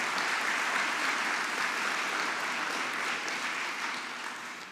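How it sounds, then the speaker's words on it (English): An audience at a leadership award celebration claps steadily in a broad wash of applause that holds level and then slowly fades toward the end, with no talking over it. "Give yourselves a round of applause for changing the world."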